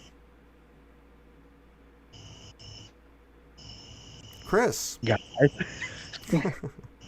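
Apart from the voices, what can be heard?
crickets chirping outdoors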